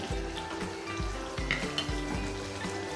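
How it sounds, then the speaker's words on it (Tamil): Gooseberries fry in a pan with a soft continuous sizzle, punctuated by regular low scraping thumps of stirring and a few light metallic clinks, fairly quiet and close. "உடையாமல் இருக்கிற மாதிரி அப்படியே நம்ம ஃப்ரை பண்ணுவோங்க"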